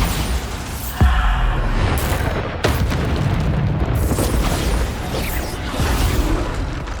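Bombarda spells blast in Hogwarts Legacy, sending deep booming explosions with sudden onsets over a loud rumbling backdrop of combat and debris.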